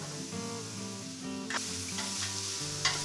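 Minced lamb with 20% fat frying in a pan with softened onions for shepherd's pie, a soft steady sizzle with a few brief stirring scrapes, heard over quiet background music.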